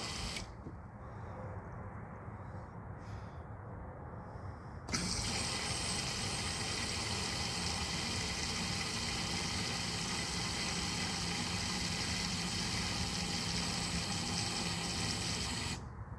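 An AEM E85 electric fuel pump, wired to a battery, drains fuel from a 2007 Pontiac Grand Prix GT tank into a gas can. Quiet mechanical sounds give way to a steady, continuous whine and hum that lasts to the end.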